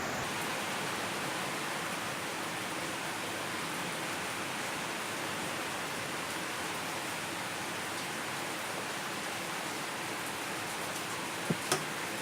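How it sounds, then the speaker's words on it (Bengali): Rain falls steadily outside, a dense even hiss of downpour with no pauses, faintly muffled as if heard from indoors while cooking. "বাহিরে বৃষ্টির শব্দ হচ্ছে"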